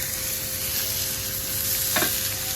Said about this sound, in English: Now our steak is still sizzling away there